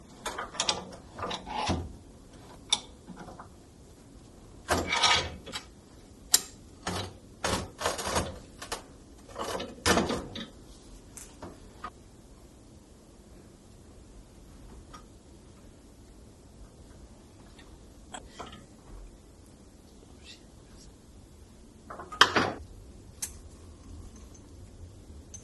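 A brake line is worked off a slave cylinder clamped in a vise, making bursts of clicks, ratcheting and metallic clatter that thin to long quiet stretches with scattered taps near the end.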